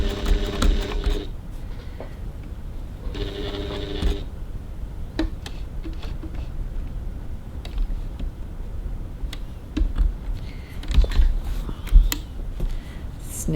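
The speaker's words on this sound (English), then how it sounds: "So now I'm stitching up the strap 3 millimeters, 1/8 of an inch from the edge" A sewing machine stitches a handbag strap close to the edge, giving short bursts of mechanical whirring separated by pauses and small clicks, heard close up and fairly quiet.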